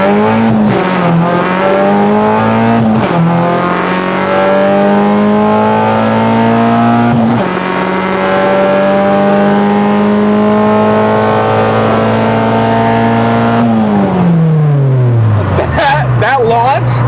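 A Honda Civic launches down a drag strip, its loud, close engine wailing upward through several gears with sharp drops at each shift, then winding down near the end; a voice talks faintly underneath.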